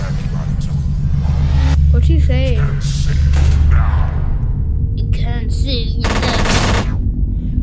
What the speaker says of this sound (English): Someone brought a gun to Freddy's. And it looks like an automatic gun as well.